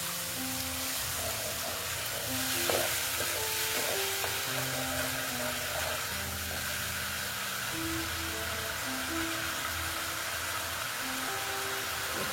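Water goes into a pan of frying pabda fish in oil, setting off a loud, steady hiss and crackling sizzle that holds close and constant throughout.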